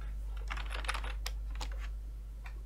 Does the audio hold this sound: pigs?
no